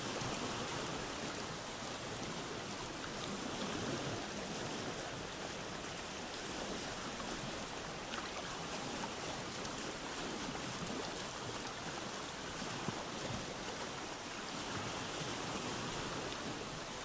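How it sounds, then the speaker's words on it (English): Steady rain in the survival game Vintage Story hisses evenly throughout, a dense, unbroken wash of falling drops with no talk. "it's raining"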